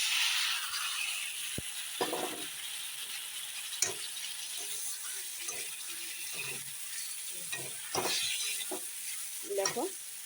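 Fried eggplant pieces being stirred into sizzling masala with potato for a Bengali begun posto dish: steady frying hiss throughout, broken by several sharp spoon scrapes and clatters against the pan, close and fairly loud.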